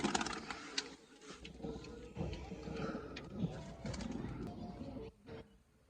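Soft pigeon cooing rises and falls amid scattered background noise and brief rustles, fairly faint and intermittent.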